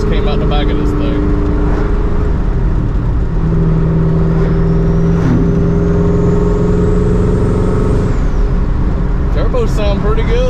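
A California Special car with a twin turbo kit, its engine revving and droning loudly at close range, the pitch climbing then falling away, while a person talks over it.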